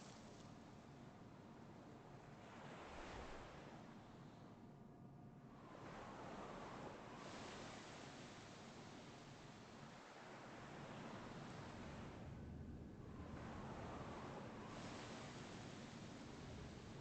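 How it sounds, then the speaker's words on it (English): Ocean waves breaking on a shore in a video game, a continuous broad wash of surf rising and falling in slow surges with wind noise, steady and fairly loud with no talking. "I love the sound of the waves."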